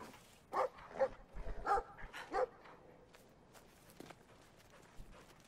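Barking and yelping from a dog giving chase in the video game Brothers: A Tale of Two Sons, several loud bursts close together early on, then quieter footsteps and scuffling sounds.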